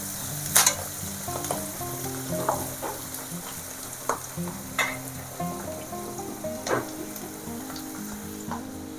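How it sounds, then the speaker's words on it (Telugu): Fenugreek leaves frying in hot oil for a moringa and prawn curry, a steady close sizzle broken by soft, irregular stirring scrapes and taps, with no voices. "మెంతికూర కూడా కొంచెం వేగాలి ఈ ఆయిల్లో మెంతికూర వేగితేనే ఆ టేస్ట్ ఇంక్రీజ్ అవుతుంది"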